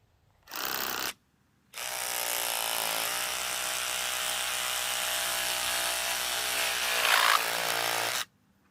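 A power tool, likely a chainsaw, cuts a wedge out of a wood obstacle in a Kentucky bluegrass lawn. A short burst comes first, then a steady, loud whine runs for about six seconds, with no talk.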